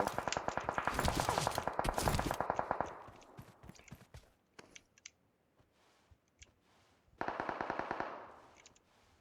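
Rapid automatic gunfire in PUBG Mobile comes in two loud bursts of quick cracks, separated by a quieter stretch of scattered distant shots and clicks.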